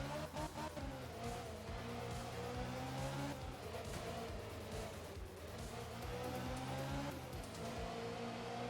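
A rally car in the racing game art of rally drifts and spins out, its engine droning steadily with rising and falling revs and tire skids throughout, loud and close with no talk.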